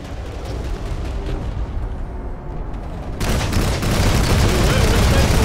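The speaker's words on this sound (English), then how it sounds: "I'm just shooting at it with a rotary because I know it does." Rotary gun in Planetside 2 pouring rapid fire at a Bastion carrier, a loud continuous roar of shots mixed with battle noise, intensifying in the second half, with a player's voice over it.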